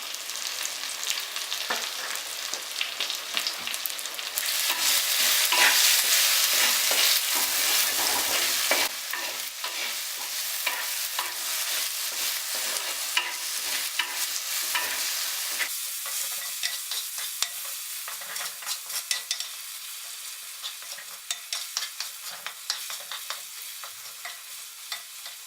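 Tomato and masala sautéing in a pan for Kerala-style duck curry make a continuous dense sizzle that swells louder partway through, with stirring scrapes and soft clatter and no voices.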